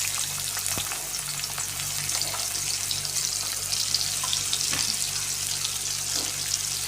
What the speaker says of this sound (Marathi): त्याच्यामध्ये आता आपण कांदा परतवून घेऊया.